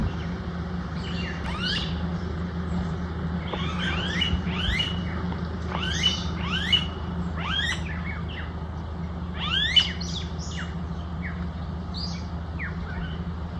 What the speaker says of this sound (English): All these bird sounds I've never heard in my life.